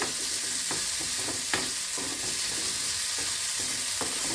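Onions fry in a pan with a constant crackling sizzle, overlaid by a series of brisk scrapes and taps as a spatula stirs them.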